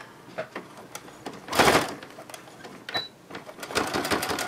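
A domestic sewing machine stitches along the edge of a fabric diaper-changing bag and then runs a short reverse backstitch, giving close bursts of mechanical whirring and clicking with brief pauses between them.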